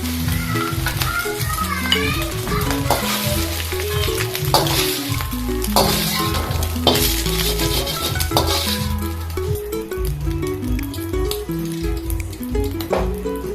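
Egg and brinjal stir-fry in a pan, loud continuous sizzling with frequent scraping and clinking of a spatula against the metal, with busy background noise underneath.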